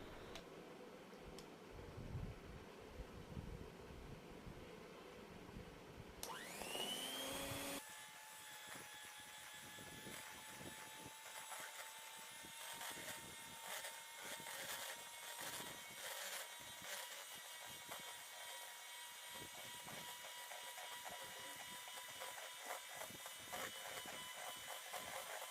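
An electric beater whips cake batter made with egg yolks, oil and sugar. It starts abruptly after a quiet stretch and then whirs steadily with a thin high whine, close and continuous, with no talking.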